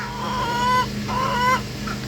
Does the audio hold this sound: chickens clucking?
yes